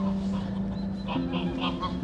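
A Muscovy duck, also called a pato criollo, gives harsh honking calls outdoors. The calls are close and fairly loud over a steady hum of background noise.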